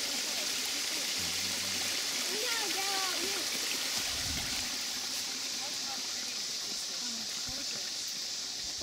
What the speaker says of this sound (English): here's a little waterfall on this little water feature